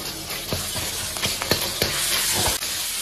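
Minced pork frying in hot oil in a wok, a steady loud sizzle with several sharp stirring scrapes of a ladle at intervals, no talk.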